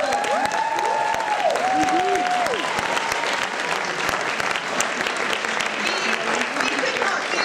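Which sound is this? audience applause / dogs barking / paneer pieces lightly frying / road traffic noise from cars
audience applause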